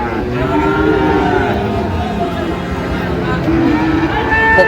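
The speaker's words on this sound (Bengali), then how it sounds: "এখানে যে বেশ সুন্দর কোয়ালিটির গরুগুলো" Cattle, Friesian and crossbred bulls and calves, moo repeatedly amid a busy livestock market at Raniganj, with crowd chatter and voices mixed underneath the lowing animals.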